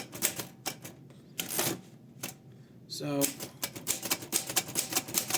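A 1947 Remington De Luxe Model 5 typewriter clacks in sharp, irregular mechanical strikes up close, with a brief ringing mechanism sound, while a person talks.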